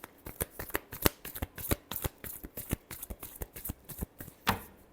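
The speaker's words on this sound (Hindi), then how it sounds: "last shuffle" Tarot cards riffle and slap in a rapid run of crisp shuffling strokes, close and clear with no other sound.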